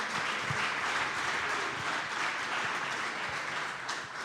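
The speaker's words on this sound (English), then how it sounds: "give yourselves a round of applause" Studio audience applause filling the space, a steady dense wash of many hands clapping at even loudness throughout, no voices on top.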